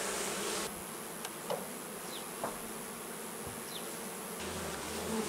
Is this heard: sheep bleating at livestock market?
no